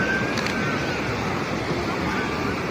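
Constant rushing surf washes in and out close by, mixed with wind buffeting the microphone.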